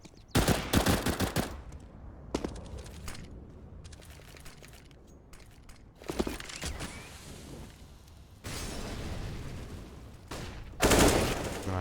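Pistol shots in Counter-Strike on the Cobblestone map ring out as sharp, loud bursts of rapid fire, separated by quieter stretches with a few isolated single shots and clattering mechanical clicks.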